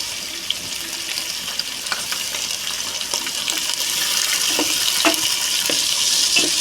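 Sliced onions and tomatoes frying in a pan for bagara rice, giving a continuous broad sizzling hiss broken by scattered clicks and light scrapes of stirring, growing slightly louder toward the end with no talking.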